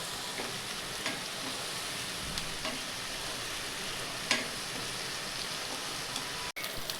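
Egg masala sautéing in a pan until its raw smell cooks off, a soft steady sizzle with occasional faint spoon scrapes and one sharper knock, fairly quiet and unbroken.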